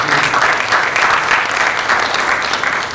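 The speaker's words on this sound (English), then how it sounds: "Please let's give him a hand of applause." Workshop audience at the University of Ghana giving a steady round of applause, loud, dense clapping sustained for several seconds without speech.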